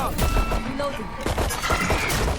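Rapid Valorant gunfire crackling in a dense burst of shots with thumps, loud and close, mixed with game noise and voices talking over it.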